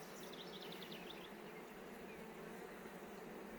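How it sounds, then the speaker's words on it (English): Honey bees buzz in a dense, continuous drone around a full hive box, faint and steady with no voices. "This is a pretty full box of bees"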